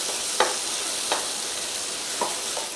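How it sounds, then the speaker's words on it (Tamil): Chopped onion and tomato sauté in hot oil, a constant close sizzle with a few soft spatula stirs scraping through it. "ஒரு பாதி தக்காளியை சின்ன சின்னதாக கட் பண்ணிவிட்டு அதையும் இதில் போட்டு இந்த வெங்காயத்தோடு வதக்கிக்கணும்"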